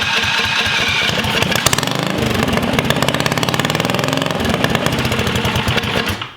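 A mini ATV engine with a Tillotson ignition wired to the stock ATV ignition runs loud and close throughout, a rough, rapidly pulsing motor note that holds steady with slight revving.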